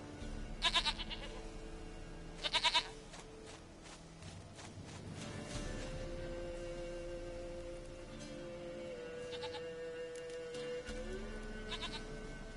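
A goat bleats twice in quick succession in The Witcher 3 video game, a close, loud wavering call followed by soft footsteps and a quiet ambient background with no talk.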